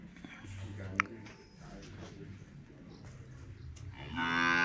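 A male Simmental bull at a cattle trader's pen lows a few times at close range, with a steady low rumble under light background noise and a louder burst of sound near the end.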